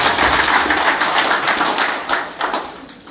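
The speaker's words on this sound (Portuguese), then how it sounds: "uma salva de palmas para ela" Dense, steady applause from a crowd at a PRS party meeting, many hands clapping at once and tapering slightly toward the end.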